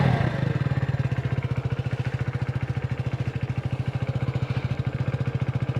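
A 150 cc motorcycle engine runs at a steady idle, thumping in fast, regular pulses that sound loud and close throughout. No talking is heard over it.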